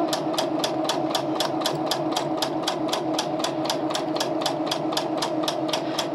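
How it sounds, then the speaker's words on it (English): A domestic sewing machine stitches quilting fabric for a small cross-stitched board game, its needle hammering in a fast, steady rhythm with a continuous motor whir underneath, close and loud with no talking. "So again, you sew off the edge."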